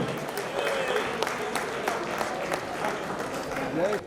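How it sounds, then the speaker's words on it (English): A crowd at a community news gathering applauds, with sustained, fairly loud clapping that runs the whole stretch and is joined by scattered voices and cheers. "Let's give them a big round of applause, everybody."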